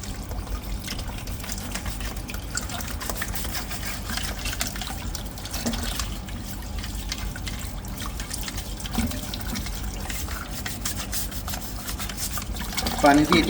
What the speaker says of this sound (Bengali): পানি দিয়ে এটি আপনারা খুব সহজেই পরিষ্কার করে ফেলতে পারবেন।